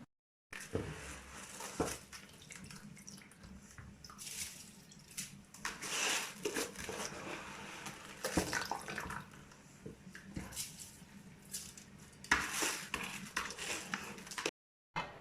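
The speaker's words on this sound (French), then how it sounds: "je vais aller laver mon riz et le mettre dans l'eau bouillante" Rice being washed under a running kitchen tap, with a steady splashing stream broken by wet swishing, sloshing and dripping as the grains are stirred by hand, close and moderately loud with no talking.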